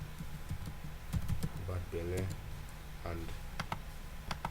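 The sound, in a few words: typing a password on a computer keyboard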